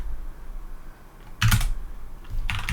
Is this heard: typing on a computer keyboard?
yes